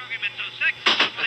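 A gunshot sound effect played on a talk radio broadcast, two sharp loud bursts in quick succession near the end, following a few seconds of muffled, radio-filtered talk.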